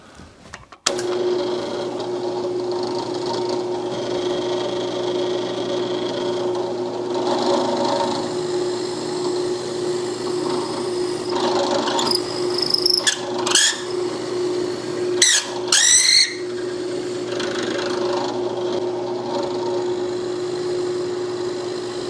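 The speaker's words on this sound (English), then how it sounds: "So I've got the holes drilled in the seat." A drill boring holes in the wooden seat of a three-legged Dragon stool gives a steady motor whine that runs unbroken for about twenty seconds, with a few scraping, rattling bursts partway through and no talking.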